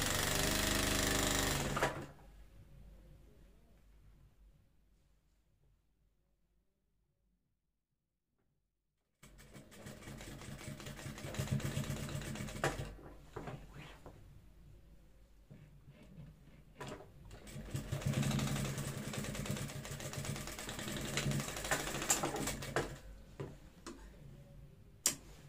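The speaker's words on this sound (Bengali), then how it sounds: "এভাবে একটা একদম ফিনিশিং ভাবে একটা সেলাই দিয়ে দেবেন" Sewing machine stitching the finishing seam on a girls' school belt, running in sustained loud bursts with a long silent pause between them and brief stops and restarts.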